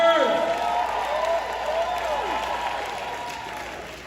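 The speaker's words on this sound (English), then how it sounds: "Let's give our ladies a big round of applause." Audience at the People's Choice Awards breaks into sustained applause with scattered cheers, a dense steady wash of clapping that fades slightly toward the end, with a voice briefly audible over it.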